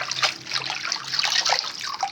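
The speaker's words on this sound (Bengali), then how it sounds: "খুব ভালোভাবে ধুয়ে নিচ্ছি" Jhul leaves are rubbed and rinsed by hand in plenty of water, producing close splashing and trickling with irregular sloshes and drips and no speech.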